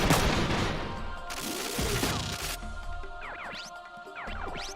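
Gunfire in Front Mission 3 Reload, a mech tactics game battle: dense, loud bursts of shots and explosions fill the first half, then sweeping whooshing projectile sounds rise and fall over a rumbling background.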